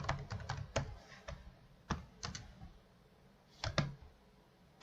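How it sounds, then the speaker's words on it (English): Typing on a computer keyboard in scattered clusters of a few keystrokes separated by pauses, close and quiet, with no voices. "And here I will type product model"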